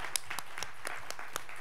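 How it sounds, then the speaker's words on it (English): A delegate assembly audience gives a round of applause: scattered, fairly faint hand claps from a modest crowd in a hall, uneven and sparse rather than a full ovation. "I think she deserves a round of applause"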